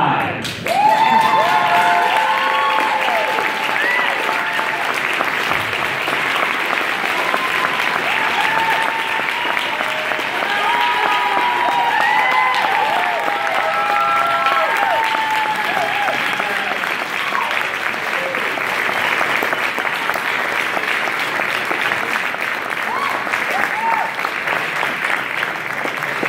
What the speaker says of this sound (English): Just give them a round of applause again.